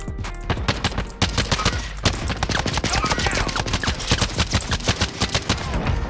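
Rapid bursts of automatic gunfire in the Call of Duty Warzone battle royale game, dense repeated shots rattling loudly and continuously throughout, with a voice talking briefly underneath.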